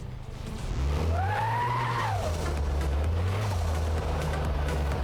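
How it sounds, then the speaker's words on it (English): Tyre screech from a car in the Car Mechanic Simulator 2026 game, a rising and falling squeal over a steady, loud engine drone lasting a couple of seconds, with no talk. "did you just hear the wheel screech then?"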